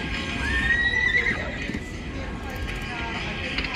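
A horse whinny and galloping clip-clop hoofbeats play from a high-limit Mustang Money 2 slot machine during a bonus round, loud and continuous with casino noise behind it.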